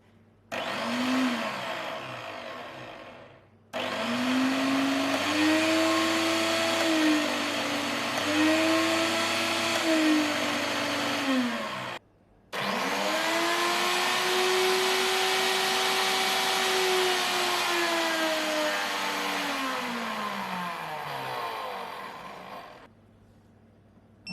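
A Myco Bar blender with purely mechanical push buttons runs in three long bursts, its motor whining loudly and steadily and shifting speed within each run, with brief silent gaps between them and no talk.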